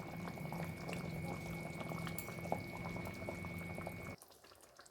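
Potato, pointed gourd and egg gravy simmers on a low flame, giving a steady, faint bubbling and soft gurgling that continues without talk before cutting off near the end.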